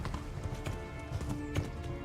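Horse hooves clip-clop in a quick, steady rhythm at close range in the video game Kingdom Come: Deliverance, with a soft background hum.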